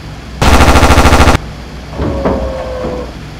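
A single loud burst of rapid automatic machine-gun fire from a B-25H in the flight combat game Aces High 2, lasting about a second, followed by quieter rumbling and a faint mechanical hum.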